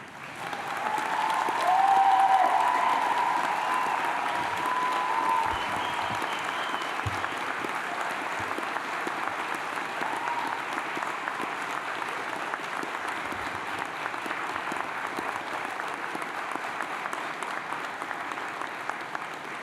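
Sustained audience applause with cheering fills a graduation ceremony hall in Cambridge, loud at the outset and then holding steady as a dense wash of clapping for the rest of the clip, with a few whistles early on.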